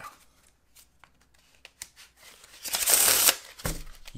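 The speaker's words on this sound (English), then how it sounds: "Let me get another Pharaoh Shuffle in there." GEMACO casino playing cards riffled in a Pharaoh shuffle: scattered soft card taps, then a dense, loud burst of ruffling and a final quick snap, close up with no talk.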